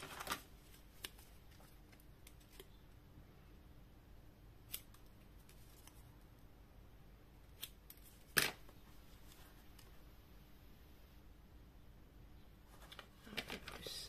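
Scissors snip paper for a vintage Christmas album, a few isolated crisp cuts spread across a quiet background, with one sharper, louder snip near the middle and a small flurry of clicks at the end.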